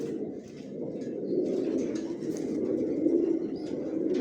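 Pigeons in a new bedding loft on one floor of a five-storey building give a steady, low, continuous cooing that overlaps as the birds call. A few faint chirps come through above it, and nobody speaks.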